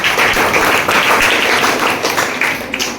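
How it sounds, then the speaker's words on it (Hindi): Loud, sustained applause from a school audience for a student contestant at a KBC-style quiz show in a government school, steady dense clapping throughout with no talk. "एक बार जोरदार ताली बजाएं।"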